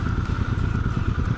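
Royal Enfield Bear 650 twin-cylinder engine chugging at very low revs in fourth gear, a deep, even, rapid thumping pulse heard from the rider's position with wind noise, brief and steady.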